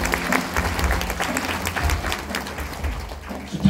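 Audience at a celebratory stage event applauds the host's family, fairly close, lively clapping with uneven surges and a few louder individual claps, continuing to the end.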